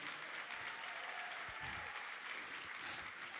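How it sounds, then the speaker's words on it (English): An audience applauds Shelly and the events team at a leadership retreat: a steady, dense wash of clapping that holds evenly throughout and sounds somewhat distant and soft. "Clap it up for Shelly and the events team."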